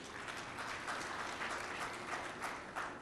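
Audience applause fills the hall at the ANC National General Council, a dense, steady wash of many hands clapping, faint and distant with no talking over it.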